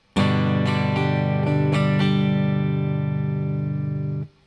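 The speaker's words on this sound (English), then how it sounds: "we're going to play a super common strumming pattern." An acoustic guitar chord strummed several times in a quick rhythm, then left ringing as one full sustained chord before cutting off.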